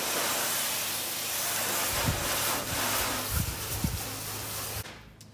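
Meguiar's ceramic spray wax is misted onto the paint of a Jeep Wrangler JK as a continuous airy hiss, with a few soft thumps and handling noises, before cutting off abruptly near the end.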